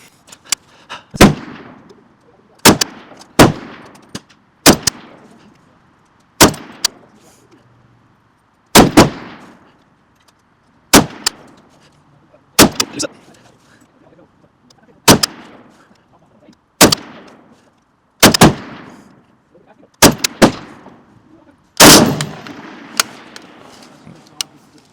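An L85A1 SA80 rifle fires match ammunition at 300 m, about a dozen loud single shots at a steady, unhurried pace, each crack followed by a short echoing decay outdoors.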